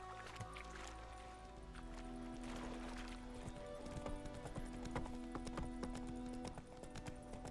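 Horse hooves clip-clop steadily in The Witcher 3, a continuous rhythmic trot with a low background drone and faint ambient layers, no talk over it.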